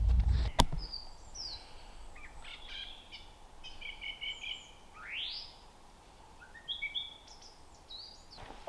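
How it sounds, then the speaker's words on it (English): Several birds sing near a historic rampart outdoors, their chirps, trills and rising whistles scattered over a quiet, faint background hiss, with one sharp knock near the start. "I heard the bird song and I thought you might like to listen to it."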